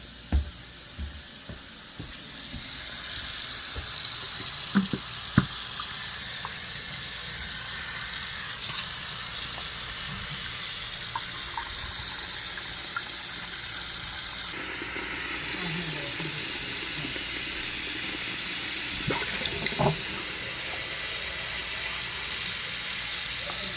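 A tap runs water into a sink at a clogged drain, giving a steady rushing hiss that stays fairly loud, with occasional clinks and faint background sounds.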